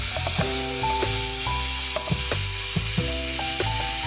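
Ground beef sizzling loudly in a pan as it is broken up, a continuous close hiss with regular knocks and scrapes of a utensil against the pan.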